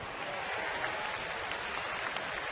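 A large crowd of fans cheers and applauds steadily at a nighttime Padres baseball game in San Diego, a dense continuous roar that holds level and fills the stadium.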